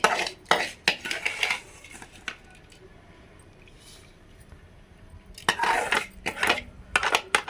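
Fried semiya vermicelli added to a pot of milk on the stove and stirred, with bursts of metal spoon scraping and clanking against the pot at the start and end, separated by a quiet pause.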